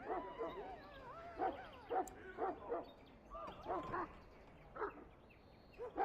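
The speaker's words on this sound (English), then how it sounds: "I fear your hound has the kitchens in uproar once again" A Mabari hound in the video game Dragon Age Origins barks in repeated bursts with yips and whimpers, fairly close, amid quieter background sound.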